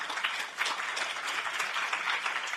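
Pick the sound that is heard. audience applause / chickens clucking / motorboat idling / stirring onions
audience applause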